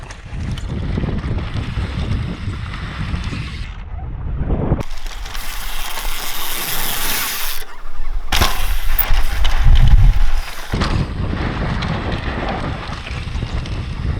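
Strong wind buffets the microphone in loud, roaring gusts that surge and drop abruptly, with no voices present, during a downhill mountain bike ride in Ankara.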